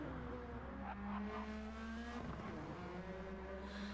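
Race cars from a GT7 Gr.3 online race, including a Genesis, a GT-R and a BRZ, driving by on track during hot laps; overlapping engine tones rise and fall as they pass, with a faint tire squeal, fairly quiet and steady.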